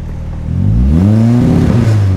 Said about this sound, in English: let's turn this up to 4 grand and see how much more aggressive that sounds.